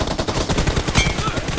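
Gunfire rattles in the mobile battle royale game BGMI, a continuous loud burst of rapid shots with a sharp accent partway through.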